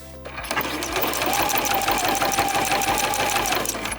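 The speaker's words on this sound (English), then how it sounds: "I'm going to sew it right sides together with a 1/4 inch seam allowance" A sewing machine stitches a quarter-inch seam through birch fabric with a fast, steady mechanical whir that starts abruptly and runs loud and close for about four seconds.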